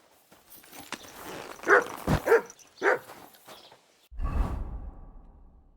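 A few sharp dog barks in the video game Kingdom Come: Deliverance 2, clustered in quick succession at mid distance, followed by a low whooshing rumble.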